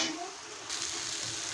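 Turmeric and spices fry and get stirred in a pan for a fish curry, giving a steady close sizzle with soft scraping strokes of the stirring utensil.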